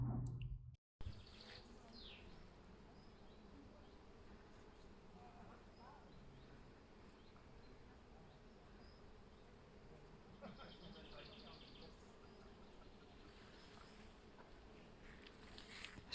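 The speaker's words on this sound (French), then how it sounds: "c'est fou, ça grouille des abeilles" Bees swarming in a garden, a soft continuous buzz of many insects close by, with a brief knock at the start and faint outdoor ambience.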